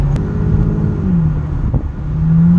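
Mercedes-Benz 600SL with a V12 engine, a loud, close, steady low rumble from inside the car with a slight rise in pitch near the end, no voices.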